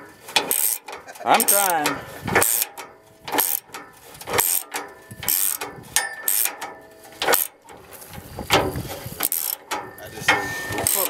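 A ratchet clicks in repeated bursts while bolts are tightened during a car gas tank replacement, the rapid pawl ticking close and uneven, with a brief spoken remark mixed in.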